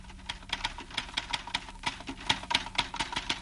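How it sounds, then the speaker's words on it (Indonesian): Letters are typed in an office on what sounds like a typewriter, with a steady run of crisp, evenly spaced key strikes close up and no talking. "Dia sedang mengetik surat-surat."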